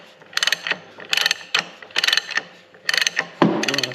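Ratchet with a 1 7/8 inch socket tightening a nut on a John Deere B tractor transmission shaft: five bursts of rapid clicking, each about half a second, separated by short pauses, close and clear with no talk.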